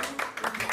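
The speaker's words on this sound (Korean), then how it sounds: "우리 박수 한번 해요." Brief applause from a studio audience on a Korean television program, heard as a few loud, broadband bursts of clapping in quick succession that last well under a second.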